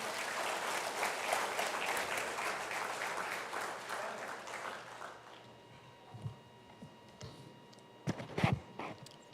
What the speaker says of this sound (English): let's welcome, with a round of applause, Mr. Kevin Ramnarine